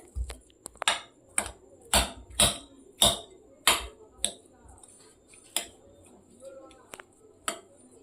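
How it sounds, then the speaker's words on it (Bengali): Boiled potatoes are mashed in a bowl with a utensil, making a steady run of sharp knocks against the bowl about twice a second. A voice speaks briefly between them. "প্রথমে একটা বুলের মধ্যে আমি আলুগুলোকে নিয়ে নেব আলুগুলোকে ভালো করে ম্যাশ করে নিতে হবে"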